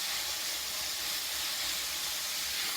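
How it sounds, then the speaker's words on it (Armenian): Chopped onion with greens frying in a pan, a steady broad hiss of sizzling oil, continuous and even at moderate loudness, with no speech over it. "Այսպես տապակում ենք։ Պետք է մի փոքր թուլացնենք սոխը կանաչի հետ"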